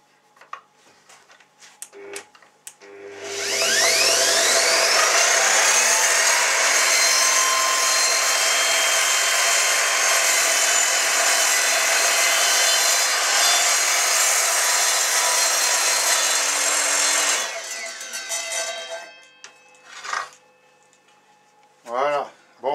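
A power saw cuts through wood in one long, loud, steady run of about fourteen seconds, with quieter knocks and handling sounds before and after.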